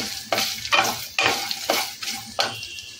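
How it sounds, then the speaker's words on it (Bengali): Cashews and peanuts stirred in a hot pan with a utensil, giving about six rhythmic scraping strokes over a continuous sizzle, close and clear with no voices. "এখন কাজু আর চিনাবাদামটা এর মধ্যে দিয়ে দিলাম। এটাও একটু হালকা হাতে নেড়ে নেবো।"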